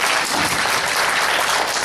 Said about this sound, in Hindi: एक बार जोरदार ताली हो जाइए